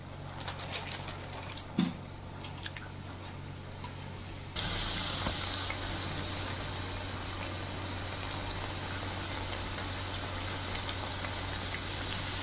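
Ragi burelu, sweet finger millet dumplings, frying in hot oil. A steady sizzling hiss starts partway through and continues at a moderate level, with faint bubbling and scattered clinks from the pan.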